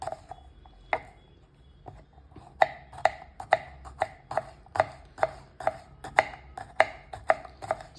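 A knife chops bitter gourd into small pieces on a board, sounding as crisp, close taps that start sparse and then settle into a steady rhythm of roughly two strokes a second.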